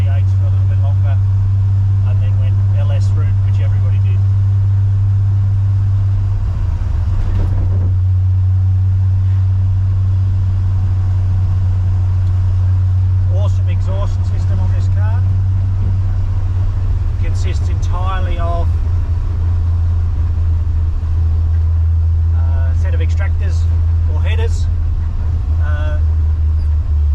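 A car engine idling with a deep, steady exhaust drone through a 7/8-inch exhaust pipe, loud and close and continuous throughout, with someone talking over it.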